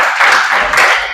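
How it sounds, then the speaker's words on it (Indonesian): A school class applauds a group of students after a volleyball serving lesson, a short burst of broadband clapping from many hands in a room. "Tepuk tangan dulu untuk mereka dulu."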